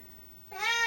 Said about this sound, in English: I don't know if you hear my cat, but now she's meowing.